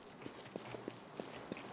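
Running footsteps in the video game Infestation: The New Z, a fast, faint rhythmic series of thuds over a low background hiss.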